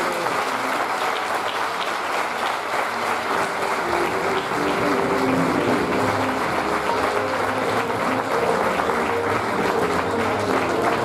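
A full theatre audience at a charity event applauds, a steady, dense wash of clapping that holds at an even level for about eleven seconds.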